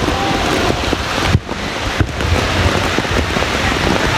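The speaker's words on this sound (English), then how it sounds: "Well, it's starting to rain again here at Larry Gomes." Rain falls on the Larry Gomes stadium grounds during a school football match as a dense, continuous hiss of drops, loud and close, broken by a couple of brief thumps.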